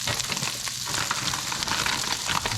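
Sausage sizzling in a pan, a constant loud crackling fry with dense popping, close up and uninterrupted by talk.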